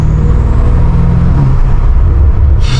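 A catless BMW F90 M5 Competition on backroads, its turbos whooshing under a loud, steady engine drone heard from inside the cabin, with no talk.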